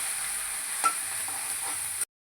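Small prawns frying in a pan of oil for a Bengali vegetable chorchori, a soft steady sizzle with a brief clatter near the middle, then sudden silence.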